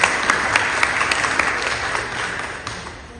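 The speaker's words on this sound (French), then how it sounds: "On peut l'applaudir en première année" Brief applause from a Protestant church congregation during a Sunday service for a first-year catechism student, a moderate, steady patter of many hands in a reverberant hall.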